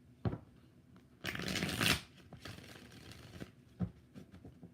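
Tarot cards shuffled in a few bursts: a short riffle, then a longer, louder rushing shuffle, followed by softer shuffles and light card taps, close up with no talking.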